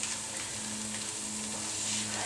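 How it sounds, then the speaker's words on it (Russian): Plov ingredients fry in a pan on a home stove with a continuous close sizzle and crackle, a steady hiss throughout with no talking. "Вот так вот это все будет жариться."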